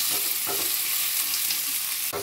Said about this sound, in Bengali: এর সাথেই আমি চিংড়ি মাছটা দিয়ে ভালো করে ভাজা ভাজা করে নেব